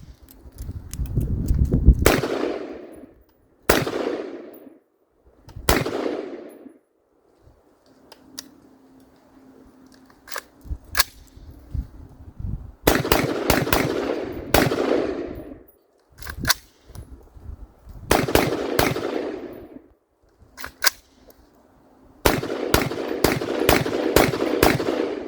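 A PSA .223 Wylde upper on a Palmetto lower fires Hornady 5.56 55-grain rounds outdoors: sharp, loud cracks come singly and in quick strings, with short breaks between groups.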